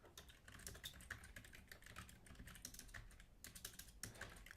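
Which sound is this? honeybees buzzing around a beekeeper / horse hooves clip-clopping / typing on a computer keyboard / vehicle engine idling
typing on a computer keyboard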